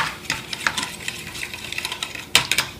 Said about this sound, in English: First, whisk the egg and the milk together. I'm using fork, but you can do whisk as well.